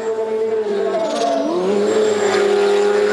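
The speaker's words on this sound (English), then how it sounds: "Sounds like an old-fashioned Indy car." A rally race car, said to sound like an old-fashioned Indy car, revs hard with a loud, sustained engine note that dips and climbs as it shifts and accelerates close by.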